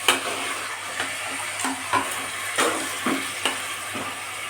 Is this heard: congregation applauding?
no